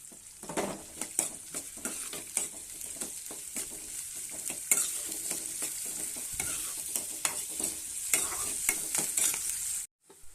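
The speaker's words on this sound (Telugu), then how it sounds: "ఆనియన్స్ కరివేపాకండి ఇవన్నీ వేయించుకోవాలి" Onions and curry leaves fry in a pan for a tempering, a steady close sizzle with repeated stirring scrapes and clinks throughout, no talk, cutting off abruptly near the end.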